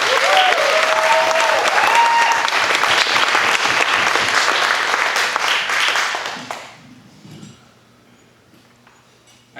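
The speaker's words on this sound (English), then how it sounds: "Give him a big round of applause" A comedy club audience applauds a comedian with loud, thick clapping and some crowd noise, holding strong for several seconds before quickly dying away to near quiet.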